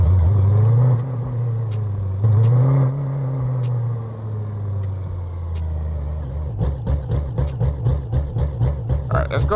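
Car engine in BeamNG.drive with a nitrous drag-racing setup, revving up and dropping through a downshift, then sputtering in rapid rhythmic pulses, loud and close, with someone talking over it.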